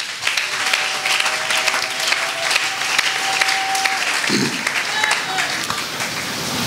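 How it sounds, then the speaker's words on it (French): A church congregation applauds at a closing service with Bishop Daudet Luboya in Mont-Ngafula, giving loud, sustained clapping for several seconds. Voices can be heard within the crowd under the applause. "Encore une fois, acclamez la parole de Dieu."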